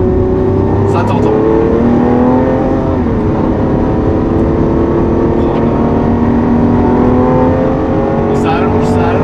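A Lamborghini Aventador Ultimae LP780-4 with its V12 engine screams loud and close at high revs past 7000 rpm, a sustained rising engine wail that fills the whole stretch, with a voice talking over it.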